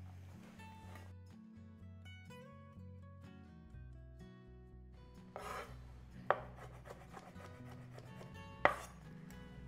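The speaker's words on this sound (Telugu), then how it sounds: "పిస్తా కట్ చేసుకుందాం" A knife chops pistachios on a board as garnish for basundi, giving a quiet run of soft, repeated cuts and two sharper knocks near the end, all under steady background music.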